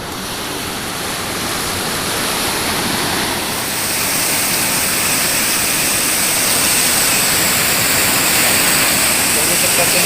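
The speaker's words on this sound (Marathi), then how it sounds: "इकडे पाणी पूर्ण लालसर आलेलं आहे पूर्ण धरणाचं पाणी खाली उतरत आहे" Reddish floodwater from a dam rushing down near a bridge, a loud, continuous roaring torrent that swells slightly over ten seconds, with a voice talking over it.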